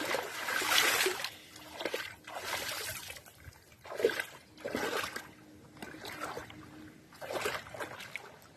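Feet wading through a waterlogged field where pond and land have merged, in a series of rhythmic splashing sloshes, each step a distinct surge of water, close and moderately loud.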